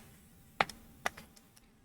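Two crisp computer keyboard keystrokes about half a second apart, followed by a few faint softer clicks, quiet and close, with no talking.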